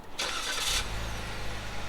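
A 2016 Lincoln MKX with its 3.7-liter V6 fires up: a short bright starter whir gives way to a steady, close low idle rumble, heard alone without voices.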